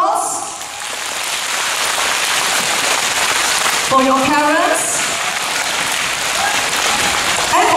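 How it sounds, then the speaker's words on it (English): Audience applause at a school prize giving day, a steady wash of clapping filling the hall throughout while a speaker talks over it near the start. "Can I encourage all of you to give a big round of applause"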